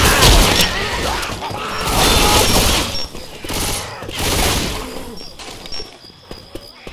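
Weapon reloading in the Left 4 Dead 2 video game: mechanical clicks and clatter mixed with bursts of gunfire, loud and close, rising and falling in waves.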